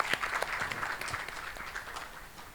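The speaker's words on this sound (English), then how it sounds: "I think you need applause for that one" Audience applause at an author event, moderately distant clapping from a small crowd, steady and fairly soft over two and a half seconds.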